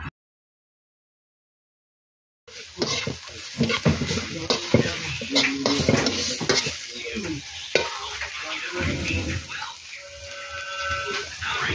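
Garlic, then onion, hit hot oil in a pan after a moment of silence, bursting into a loud sustained sizzle with stirring scrapes and faint background voices.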